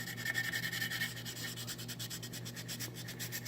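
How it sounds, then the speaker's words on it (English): Fine metal sandpaper rubbing back and forth over an oven bake coil's contact, a quick rhythmic scratchy rasp of close, quiet strokes with no voices. "Using a metal sandpaper"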